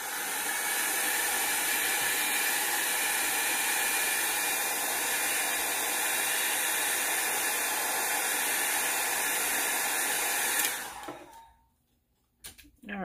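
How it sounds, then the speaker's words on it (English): A handheld blow dryer runs continuously with a loud, steady airy roar while drying a watercolor pumpkin painting card, then cuts off near the end, leaving quiet with a faint rustle. "just grab your blow dryer."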